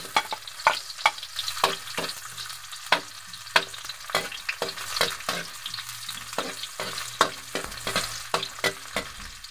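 Garlic and onion sauté in hot oil in a wok, a steady crackling sizzle broken by frequent sharp clicks and scrapes of stirring, close and continuous with no talk.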